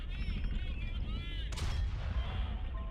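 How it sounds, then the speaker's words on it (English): Gunfire in Valiant Hearts, a World War I game: a sharp burst of shots near the middle, set against a constant low rumble of battle and bright whistling tones. "we're just gonna be openly firing the gun?"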